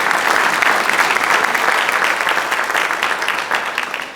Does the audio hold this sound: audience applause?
yes